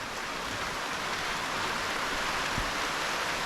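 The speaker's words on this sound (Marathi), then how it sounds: "आताच थोडा वेळापूर्वी पाऊस आला बघा" Steady rain falling in a village in October, a dense even hiss with no breaks, moderately loud and close, with no voices.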